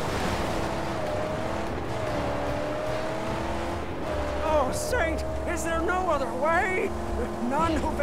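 Heavy assault vehicle engine from the Mad Max video game, a steady loud droning roar running throughout under in-game voices and shouts, swelling slightly in the second half.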